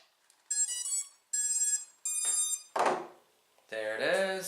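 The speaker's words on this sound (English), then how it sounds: "Just plug it in and see if it just does the beeping noise." Bugs 3 drone gives a sequence of loud electronic beeps and tones after its battery is plugged in, several separate bursts close by in an otherwise quiet room.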